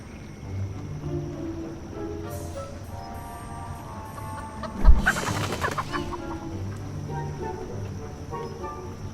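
A chicken clucks in a steady, moderate series of calls, broken midway by a sudden loud whoosh of blown air followed by a flurry of agitated noise before the clucking settles again.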